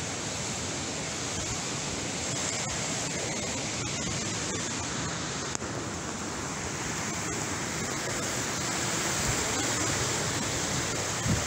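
The Arima River flows in a steady, broadband rush of water, close and continuous without a break, with faint voices underneath.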